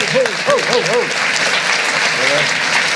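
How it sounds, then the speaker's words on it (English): An audience gives a round of applause for author Richard Wagamese at a live event, steady dense clapping filling the room while a voice calls out over it. "Richard Wagamese, ladies and gentlemen, give him a round of applause."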